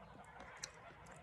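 Geese, chickens and a duck on a farm in Poland honk and call in a steady outdoor chorus, with one sharper honk standing out near the middle of the short stretch.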